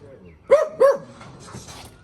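A small dog gives two quick yips or barks close by, while people talk softly around it.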